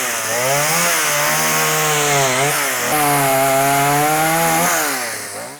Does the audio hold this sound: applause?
no